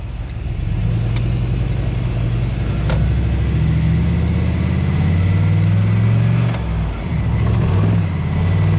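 A car engine revs up hard in first gear through a manually shifted 4T65E automatic transmission, a loud close rumble rising steadily in pitch for several seconds, then dipping briefly and climbing again near the end.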